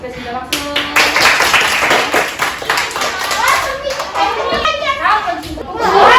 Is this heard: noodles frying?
no